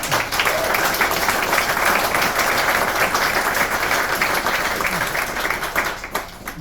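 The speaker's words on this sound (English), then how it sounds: "So I think we deserve a round of applause for that." Audience at a book launch about the Welland Canal gives a long, loud, steady round of applause that tapers slightly at the end.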